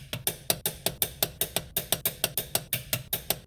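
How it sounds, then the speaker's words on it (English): A torque wrench ratchets in a fast, steady run of sharp metallic clicks while tightening the lower ball joint on a 2012 Subaru Impreza, close and loud with no talking. "Grab your torque wrench, set it to 89 foot-pounds or 129 newton-meters."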